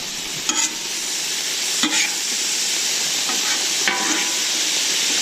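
Sausages, peppers and onions fry on a Camp Chef FTG600 flat-top griddle in a steady, loud sizzle, with a few brief scraping clatters of a spatula stirring and flipping the food.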